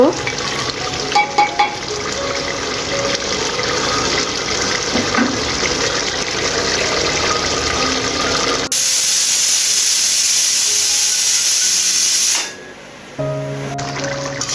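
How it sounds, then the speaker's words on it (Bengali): A pressure cooker holding tripe hisses steadily with a faint stir of sizzling, then gives off a loud, continuous whistling blast of steam for several seconds before cutting out abruptly; a few clinks follow. "এখন আমি প্রেশার কুকারের ঢাকনাটা লাগিয়ে দিয়ে দশটা সিটি দিয়ে নেব"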